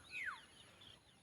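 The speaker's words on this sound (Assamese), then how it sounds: "কুলি মাতবোৰ শুনিবলৈ কি ধুনীয়া শুৱলা, বহুত ভাল লাগে।" An Asian koel calls once in a morning garden, a single short sweeping note, faint and isolated against quiet background hiss.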